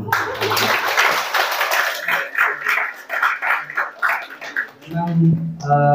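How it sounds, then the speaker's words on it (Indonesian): Students at a university guest lecture clap together for a speaker in a short rhythmic burst of synchronized claps, loud and close, before a voice starts talking at the end. "Beri tepuk selamat kepada Pak Misa dulu ya."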